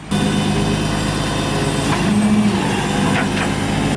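A Mercedes S-class, once dead and now starting, drives slowly in with a loud, close, steady low engine rumble that holds level throughout with no talk.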